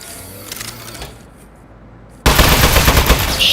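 A toilet-mounted gun firing in the video game Aperture Desk Job, a sudden loud burst of rapid, rattling machine-gun shots that continues for over a second after a quieter lead-in of clicks and hum, with no talk.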